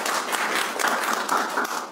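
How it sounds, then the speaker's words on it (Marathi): A hall audience claps steadily to welcome a speaker at a Constitution Day justice event, dense applause filling the short moment with no talk over it. "आपण सर्वांनी टाळ्या वाजवून त्यांचं स्वागत करू।"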